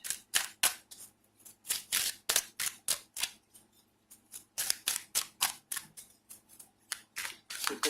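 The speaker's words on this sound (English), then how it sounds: "You can see I'm shuffling." Rapid rhythmic riffling bursts of a tarot card deck being shuffled, close by and crisp, repeating in quick clusters with short pauses between.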